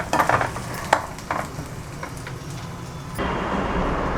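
Sautéing in a pan for aval kozhukkattai, a loud close sizzle with bursts of crackle and spatula scrapes early on, settling into a steady hiss, no talk.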